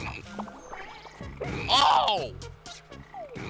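Frogs croak in the platform game Battleblock Theater, a short burst of throaty calls rising to a loud peak midway, mixed with game effects and an excited voice exclaiming over them.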